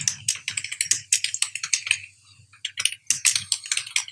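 Fast, uneven typing on a computer keyboard while entering text in InPage, crisp close key clicks in bursts with a brief pause midway, no talking.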